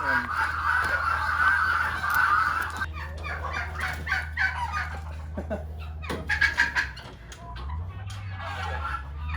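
Hens clucking and chattering throughout, with people talking over it and a low engine-like hum underneath.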